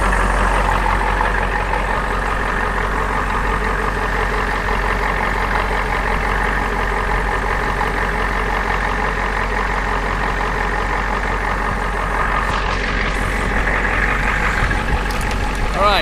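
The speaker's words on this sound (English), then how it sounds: "with the truck running" A truck engine idles steadily throughout, a loud, even drone with a constant low hum and no change in pitch; the truck has a suspected failing alternator.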